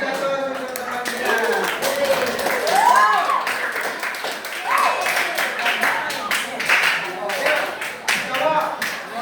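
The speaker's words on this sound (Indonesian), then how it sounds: "Kasih aplaus untuk teman kita." Classmates applaud a peer in a classroom during a teacher-training session: a steady patter of clapping hands that runs the whole stretch, mixed under ongoing chatter and talk.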